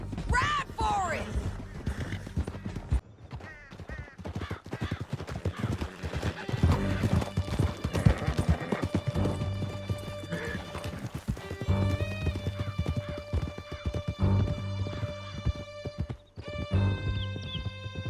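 Several horses gallop hard in Red Dead Redemption II, steady clip-clop of hooves with whinnies and neighs, mixed with shouted voices and game music throughout.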